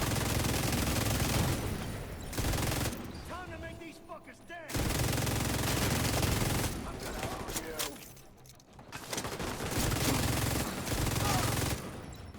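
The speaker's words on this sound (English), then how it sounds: "They're shooting, they must be real." Gunfire in a video game, bursts of rapid shooting that come and go in loud blocks separated by quieter stretches, with a voice talking between them.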